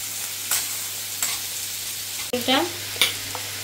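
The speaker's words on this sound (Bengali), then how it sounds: "পেঁয়াজটা একটু ভাজা ভাজা হোক, এক্ষুনি হয়ে যাবে এটা" Onions fry with salt in a pan for stuffed spine gourd, giving a low constant sizzle marked by a few utensil clatters and scrapes, one sharper knock near the end, and no talking.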